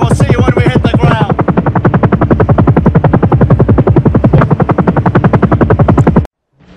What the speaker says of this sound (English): There's the chopper now